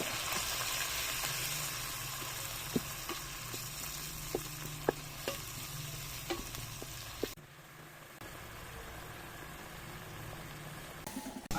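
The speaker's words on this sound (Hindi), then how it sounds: "प्याज के पेस्ट को अच्छी तरह से भूनेंगे।" Onion paste sizzles steadily in hot oil after ginger garlic paste for dhaba-style aloo bhuna, a broad close frying hiss with scattered clicks of stirring, dropping briefly to a quieter sizzle near the end.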